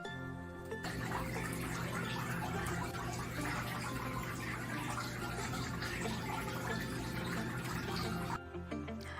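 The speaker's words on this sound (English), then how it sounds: "I heard the water and went in. It's got a fountain." A small indoor fountain in a basement potting shed gives steady, close splashing and trickling water that runs continuously for about eight seconds, then stops.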